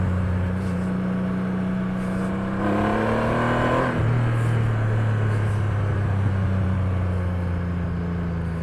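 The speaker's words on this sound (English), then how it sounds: "Anybody else have a bike that sounds like a turbo diesel?" A Triumph Rocket III motorcycle engine idles with a deep throb, then revs up sharply once before settling back into a steady, rumbling idle nearby.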